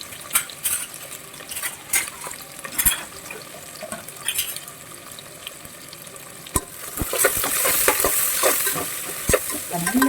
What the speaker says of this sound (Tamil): வெங்காயத்தை நல்லா வதக்கி எடுத்துக்கோங்க